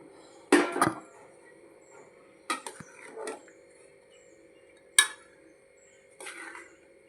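Fried rice being served onto plates, with a few sharp, separate clinks and scrapes of dishes and utensils spaced through the quiet, including a brighter strike near the middle.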